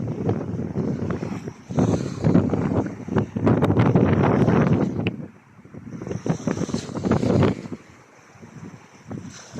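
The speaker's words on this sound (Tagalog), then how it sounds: "Mahangin." Strong, gusty wind on a road trip from Riyadh to Al Khobar, Saudi Arabia, buffets the microphone in loud roaring bursts, easing briefly mid-clip before surging again, with faint water sounds underneath.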